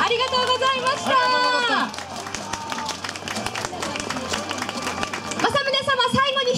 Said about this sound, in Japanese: どうぞ皆様、武将隊の皆様に今一度大きな拍手をお願いいたします